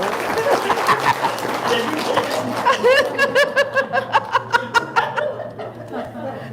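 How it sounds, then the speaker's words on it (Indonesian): An audience claps and laughs during a talk on wishes coming true, with chuckles mixed into a dense crowd wash that turns into a run of rhythmic unison claps before fading. "Tepuk tangan dulu dong."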